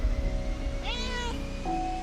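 A cat meows once in a clear, drawn-out call rising then falling, followed by a shorter second mew, heard up close over a low background hum.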